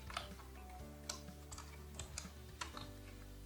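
Sparse key clicks from a computer keyboard while code is typed, coming in short irregular bursts over a steady low electrical hum, close and fairly quiet, with no one speaking.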